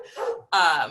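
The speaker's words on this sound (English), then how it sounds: "you can hear my dog in the background." A dog barks and yips in the background, two short bursts separated by a brief gap, fairly loud against the room.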